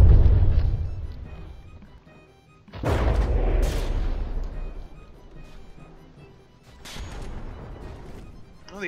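Shells explode in a naval battle in the video game From the Depths, with heavy booms rolling away at the start, then another big blast and crackling impacts, then a further rumbling detonation near the end.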